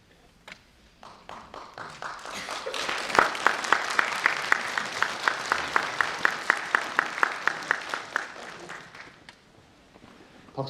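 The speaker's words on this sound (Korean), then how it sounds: "박수 고맙습니다." An audience at a city hall lecture breaks into applause, starting with a few scattered claps, swelling into dense clapping that settles into a rhythmic unison beat, then tapering off.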